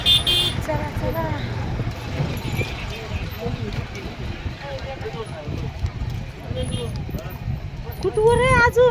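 Busy road traffic on the way back from Pandharpur, with engines rumbling and a car horn honking loudly near the end, under people talking throughout.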